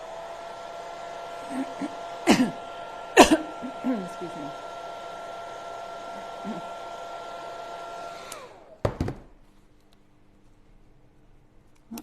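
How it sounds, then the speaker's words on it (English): A handheld hairdryer blows steadily on wet chalk paint over a craft stencil, a constant whirring hum that runs for about eight seconds before switching off, with a few brief voiced remarks over it. "I'm going to hit this with my hairdryer."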